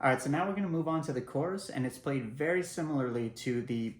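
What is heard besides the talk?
None of the usual background noises is heard.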